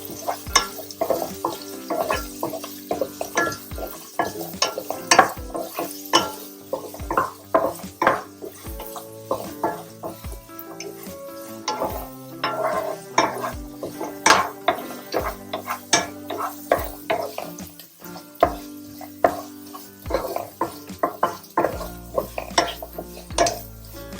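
Ginger, curry leaves, green chillies and onion sauté in ghee in a pan for Thalassery upma, with a steady soft sizzle under frequent rhythmic scraping and clinking of a spoon against the pan, close and fairly loud, no voices.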